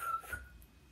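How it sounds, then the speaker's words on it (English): A whistle gives a short, faint tone lasting well under a second, heard alone in a quiet room. "you know what this is called. The whistle."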